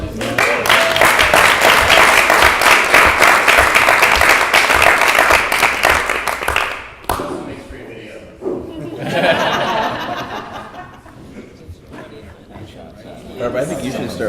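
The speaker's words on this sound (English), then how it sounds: "We give a round of applause." A dinner-event audience claps in a dense, steady burst for about seven seconds, then it breaks off into murmuring room chatter with scattered laughter and talk.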